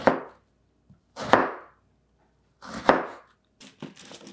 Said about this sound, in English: I'll first cut it in half, and then cubes